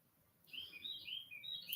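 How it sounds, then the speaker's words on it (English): A small bird chirps outdoors in a quick run of faint, high tweets over low background rumble, with no voices. "that little bird is doing this thing out there, ain't it?"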